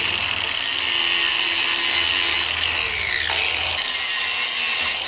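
A Ryobi power tool grinds or strips mill scale from steel held near a vise, a loud continuous abrasive whine with shifting pitch, working steadily close by throughout.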